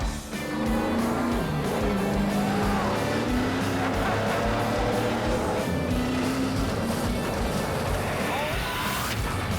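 An old race car roars around a dirt oval track with a constant loud, rough engine drone that shifts in pitch, and a voice briefly rises over it.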